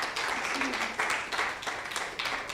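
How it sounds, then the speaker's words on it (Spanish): A church congregation applauds during a service: steady, dense clapping from many hands, fairly distant and moderately loud, continuing without a break. "Vamos a darle un aplauso al Señor por esto."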